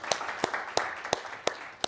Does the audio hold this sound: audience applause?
yes